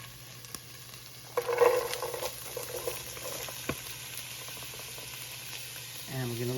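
Chopped vegetables sizzle and sweat in a soup pot for pasta fagioli, a steady moderate crackle with light stirring scrapes and a low background hum.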